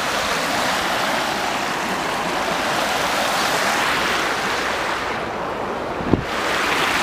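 River water rushes loudly at a rocky crossing, a dense continuous roar with some wind buffeting, steady throughout and close to the listener.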